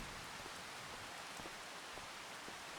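Rain falls steadily in Farming Simulator 25, a dense even hiss of drops on surfaces with scattered louder individual drips, continuous and fairly close, with no talking.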